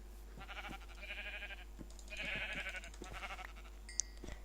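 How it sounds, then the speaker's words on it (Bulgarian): Sheep in the Minecraft video game bleat three or four times in quick succession, wavering and fairly faint over a low hum, with a small chime at the end. "Ой, овце има."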